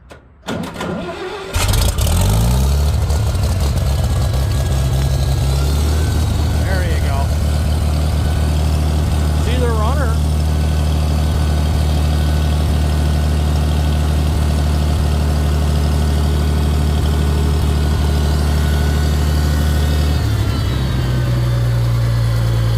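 An International Farmall tractor on a cold day, started with key, choke and throttle: the starter cranks briefly, the engine catches, then settles into a steady, loud, close idle for about twenty seconds, with someone talking at the start.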